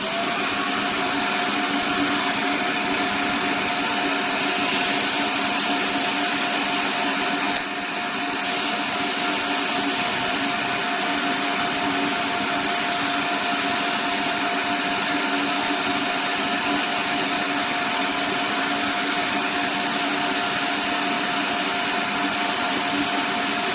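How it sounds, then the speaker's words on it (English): Sanding inside a cavity of a 20p puzzle ball with dust extraction running, a steady loud broadband roar throughout with faint rasping texture and no talk. "So I'm going to put the extraction on and do some sanding."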